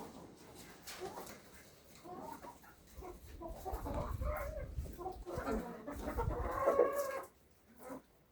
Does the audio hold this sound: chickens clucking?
yes